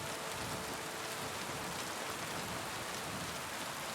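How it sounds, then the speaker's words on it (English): Steady rain pours in Kingdom Come Deliverance 2, a dense, continuous hiss of drops on surfaces that stays even and loud throughout, with no other sounds over it. "Ah, rainy day, man."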